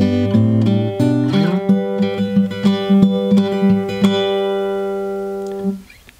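Fingerpicked acoustic guitar in standard tuning plays the intro of a song: a steady run of plucked notes over a ringing bass, close and clear, ending on a long sustained chord that fades.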